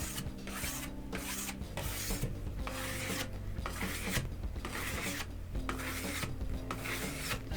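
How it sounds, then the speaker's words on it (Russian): A steel spatula rubbing and polishing Venetian plaster on a wall, heard as soft rhythmic rasping strokes sweeping back and forth in steady repetition, close and quiet, with no talking. "После этого начинаю подглаживать шпательком в разные стороны, в одну и в другую сторону."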